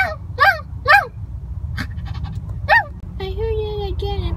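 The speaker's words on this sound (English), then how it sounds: "I just heard a puppy noise." A puppy whimpers and yelps in a series of short, high cries, with a longer whine toward the end, heard over a continuous low rumble.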